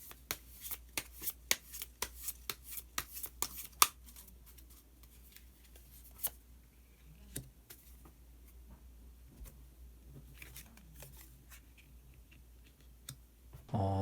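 Tarot cards shuffled and drawn from the deck, a quick run of sharp close riffling snaps at first, then softer scattered card clicks and slides in a quiet room.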